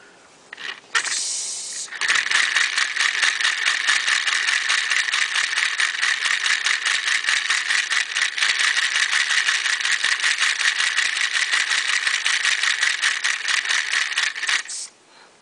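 A homemade copper and brass steam engine with a slide valve, coin-weighted wooden flywheel and bent clothes-hanger crankshaft runs on a single breath of air, giving a fast, steady, close rattling chatter for about thirteen seconds before stopping abruptly.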